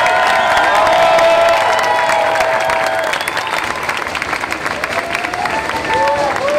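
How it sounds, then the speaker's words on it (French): A crowd at a climate activist gathering applauds and cheers loudly for their lawyers, sustained clapping with shouts and chatter mixed in throughout. "on peut applaudir très fort nos avocats qui ont été formidables"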